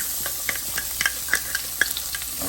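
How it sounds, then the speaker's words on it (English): Thinly sliced carrots go into hot oil in a pot, a soft continuous sizzle with scattered small pops and crackles, moderately close and without talk. "Alright, now that's ready. Alright, we're going to start by adding the carrots."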